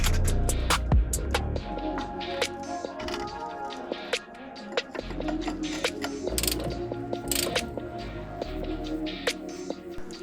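Ratchet undoing the lower shock bolt on a Mazda Miata during a TEIN coilover install, rapid close clicking bursts with metallic clanks and knocks under a low background hum, no talking.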